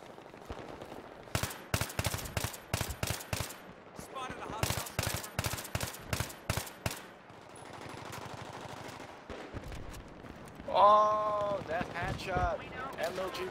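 Bursts of rapid semi-automatic gunfire in a video game firefight, several volleys of sharp repeated shots at close range, with other game sounds and a speaking voice between them.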